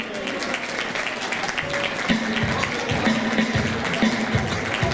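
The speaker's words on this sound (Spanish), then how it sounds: "El aplauso para ella." Audience applause for a singer at a tribute event in a shopping plaza, steady and moderately loud, with faint music or tones beneath it.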